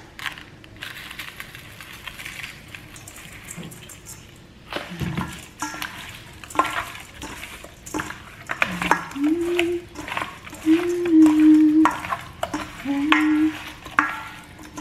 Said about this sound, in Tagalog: Yan na yung ating pork ribs, guys. So, maglalagay na tayo nito.